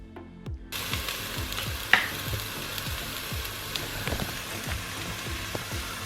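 Oil and onion sizzle steadily in a pan before shallots go in, a dense, continuous frying crackle with scattered pops and occasional stirring scrapes, close and alone without any talk.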